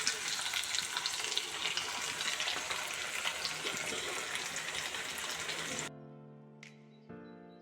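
Chicken sizzling loudly in a pan as a sauce is poured in, a dense steady frying hiss for several seconds before it drops away to quiet stirring and faint tones.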